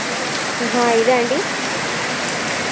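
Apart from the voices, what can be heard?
heavy rain falling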